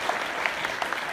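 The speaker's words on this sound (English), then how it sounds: "give a big round of applause" Congregation clapping during a Sunday service at Chestnut Ridge Fellowship Church, a continuous round of applause from the pews with a few distinct claps standing out.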